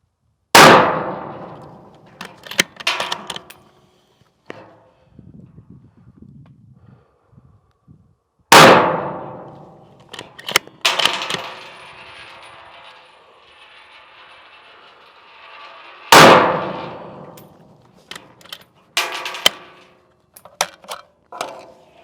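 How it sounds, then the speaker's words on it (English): A bolt-action rifle fires three rounds at a target 100 yards away. Three sharp, loud shots come several seconds apart, and between them the bolt clacks and rattles metallically as it is cycled. "We're going to send 3 rounds at 100 yards to this upper left-hand target"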